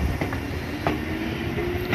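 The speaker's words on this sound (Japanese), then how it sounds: "今越生線が今発車するんで" A JR Ogose Line train pulls out of Ogose Station with a steady rumble of wheels on rail, a few faint clicks over the track joints and a thin sustained whine, close and continuous without speech.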